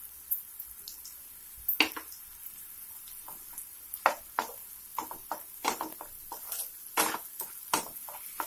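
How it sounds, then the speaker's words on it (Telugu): Onion with ginger-garlic paste fries in a pan for a fish curry, giving a steady high sizzle broken by scattered sharp scrapes and clicks as it is stirred, fairly close and alone. "ఈ విధంగా కలుపుతూ 2 నిమిషాలు గోల్డెన్ బ్రౌన్ కలర్ వచ్చే వరకు బాగా ఫ్రై చేసుకోండి."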